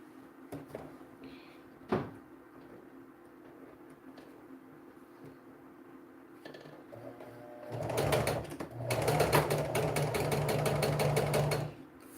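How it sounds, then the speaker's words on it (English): A sewing machine stitches a curved seam on a circle blouse, starting after a stretch of quiet handling noises and a single knock, then running in a fast, steady rattling burst for about four seconds before stopping. "So watch how I sew on this"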